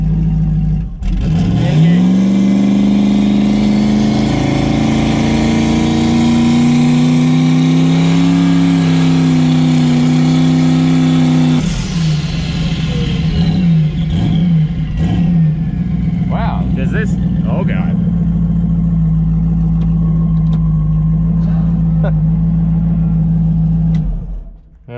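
A turbocharged 5.3 LS V8 in a Mustang revs up hard on the trans brake, holding high revs for several seconds before dropping back to a rough, loud idle that runs on until it cuts off.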